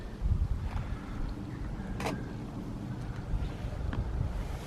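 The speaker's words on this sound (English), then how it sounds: "I can hear the wind." Wind blows outdoors beside a new Ford Transit Custom campervan with an awning as the weather turns. It makes a low, steady rumble at modest level with a few faint gusty swells.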